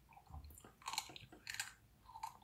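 Crunchy close-up chewing in an ASMR video, with several quiet crisp bites and crunches in irregular bursts and no talking.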